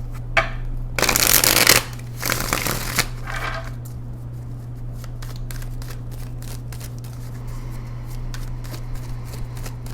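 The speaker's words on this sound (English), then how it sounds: "So I'm going to pull you some more cards here" Tarot cards riffled in a close, loud shuffle lasting about a second, then softer shuffles, followed by faint repeated clicks and taps as cards are handled and drawn on a quiet background.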